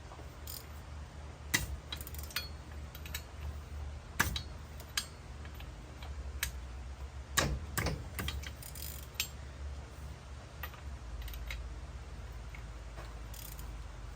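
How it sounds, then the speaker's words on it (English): A ratchet wrench clicking on a nut, faint close ticks in short irregular bursts with a few sharper clacks of handling in a quiet space, no talk. "get the ratchet in here."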